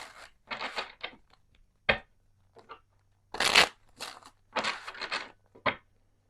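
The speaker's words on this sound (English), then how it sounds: "One more shuffle." Tarot cards are shuffled by hand in a quiet room, a series of short crisp riffling bursts separated by pauses, close and fairly soft.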